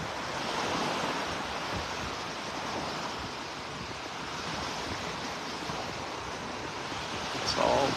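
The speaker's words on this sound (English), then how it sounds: "Back at the residence beach here." Gulf of Mexico surf washing onto the beach at Lowdermilk Park in Naples, Florida, a steady, moderately loud rush with gentle swells and a slightly stronger break near the end.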